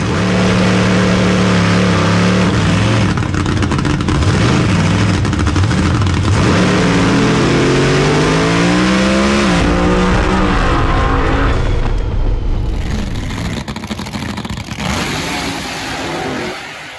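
Pontiac Firebird nitro funny cars launching down the drag strip at Penwell Knights Raceway, loud roaring engines rising in pitch as they accelerate away, a continuous thunderous blast fading slightly at the end.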